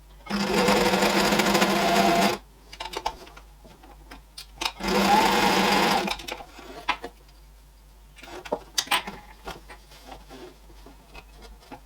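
A sewing machine stitches a golf trolley caddy bag in two loud, fast bursts of about two seconds each, followed by quieter clicks and fabric handling.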